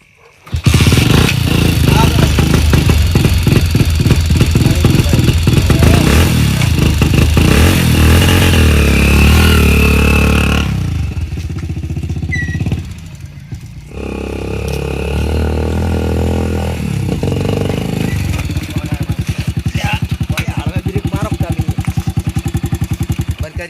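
A motorcycle nearby rattles to life and runs with a loud throbbing engine for about ten seconds, drops briefly, then revs and runs again steadily to the end, with people talking over it at times.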